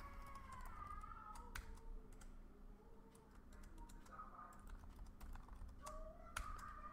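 A password is typed on a computer keyboard: a quick, irregular run of key clicks sits close to the mic over a low steady hum, with no voices.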